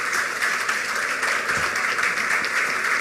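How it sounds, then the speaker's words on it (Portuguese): Conference audience giving warm applause to the panelists after a petroleum industry panel on new investments in the Campos Basin, a dense, continuous roar of many hands clapping at a steady, loud level throughout. "Peço aí uma calorosa salva de palmas para os painelistas,"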